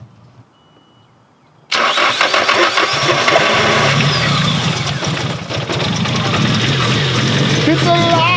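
A Nissan 240SX engine cranks and catches abruptly, then settles into a loud, steady running idle close by with slight fluctuations in level.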